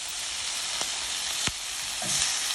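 Oxtails and vegetables frying in a pan give a steady, close sizzle with a few sharp clicks and bumps of food shifting.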